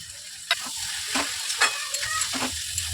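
Tomato and green chili fry in a pan with ridge gourd, sizzling loudly up close while a spatula stirs, producing several distinct scraping strokes over the steady hiss.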